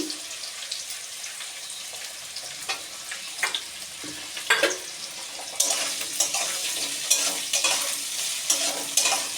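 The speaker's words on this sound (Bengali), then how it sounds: "এবার আমি পেঁয়াজটা দিয়ে দেবো" Chopped onion frying in oil alongside potatoes already in the pan, with a continuous sizzle punctuated by sharp scraping stirs of a spatula that grow louder and busier toward the end.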